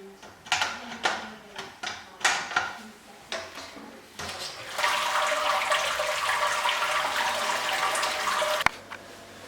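Water pours steadily into a Grainfather brewing system during the sparge for a Black IPA, a continuous splashing rush of several seconds that follows a run of scattered clunks and knocks from handling the equipment.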